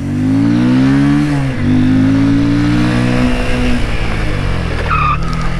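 An RKS RN 180 motorcycle brakes hard on its front brake from about 30 km/h without ABS, giving a loud, close tire squeal and skid with engine drone that drops away near the end.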